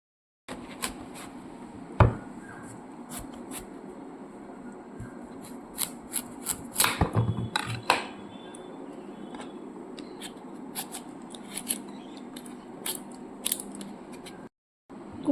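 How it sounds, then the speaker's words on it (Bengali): Raw pumpkin is cut into small pieces with a knife, giving scattered sharp cuts and taps that include a few quick bursts, set against a quiet kitchen background. "কুমড়োটা ভালো করে মুখোটা পরিষ্কার করে আমি ছোট ছোট করে কেটে নিচ্ছি।"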